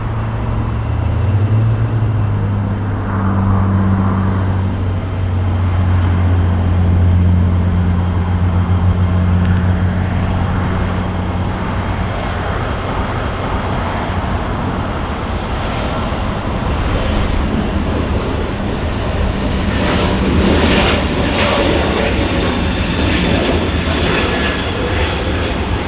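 Airbus A330 taking off in the Infinite Flight game at Zurich, a loud continuous jet engine roar that builds steadily, with a low tonal hum sliding early on and rising turbine whine toward the end.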